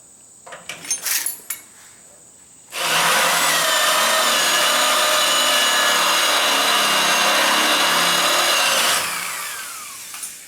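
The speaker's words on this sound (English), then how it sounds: "Drill it a little more." Power drill boring into metal on a 1967 Ford F100, a loud continuous grinding whine for about six seconds before it winds down, after a few short clanks.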